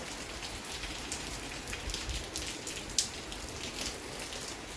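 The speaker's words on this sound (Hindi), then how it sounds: "यहाँ पे फिर से बारिश होने लग गई है" Steady rain falling outdoors in Uttarakhand, a dense even hiss of drops on surfaces with occasional closer patters, moderately quiet and continuous with no voices.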